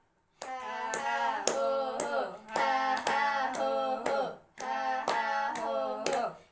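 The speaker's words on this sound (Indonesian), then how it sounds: "Lalu kita lanjutkan tepuk tangan" Rhythmic hand claps in quick bursts, close by, layered over a sustained humming or singing voice, with brief pauses between runs.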